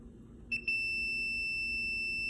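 A continuity tester touched across a good Samsung front-load electric dryer thermal fuse gives two short chirps followed by a steady, high, piercing beep that holds, faint and alone over quiet room hum.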